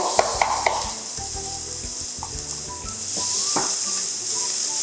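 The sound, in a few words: onion sizzling as it is added to hot oil in pan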